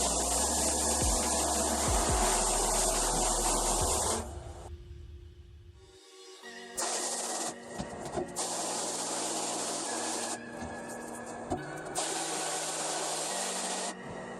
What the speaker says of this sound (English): I'll spray both sides of the screen using water from my garden hose.